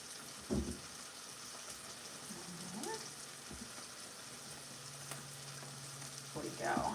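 Spiced pumpkin muffin batter being stirred in a bowl, a steady close scraping and swishing with a brief louder knock near the start and a clatter at the end.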